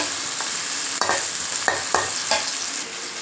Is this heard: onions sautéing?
yes